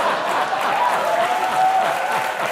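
A studio audience at a comedy show applauds in a thick, continuous roar of clapping that stays loud and even throughout.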